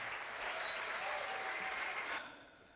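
A little applause machine plays a burst of canned crowd clapping, steady and fairly faint, that cuts off after about two seconds and leaves a quiet tail.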